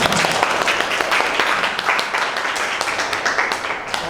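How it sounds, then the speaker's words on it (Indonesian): Classroom applause after a student group's presentation during a history-education teaching practice session in Indonesia: steady, dense clapping from many hands, fairly close and continuous throughout. "Oke, tepuk tangan."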